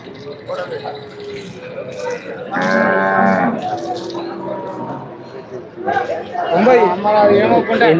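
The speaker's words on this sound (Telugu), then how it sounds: "ఇవి బఫెలోస్ ఇంకా వస్తాయి ఇక్కడ గేదెలు అనేది ఇంకా స్టార్ట్ అవుతుంది" Buffaloes low and moo loudly at a busy livestock market in Thukkuguda, several calls in a row over crowd chatter and people talking nearby.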